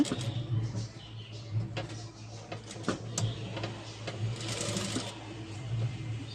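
A sewing machine runs in uneven bursts, its needle clattering rapidly nearby as it stitches lace onto a silk saree blouse, with small handling noises in between.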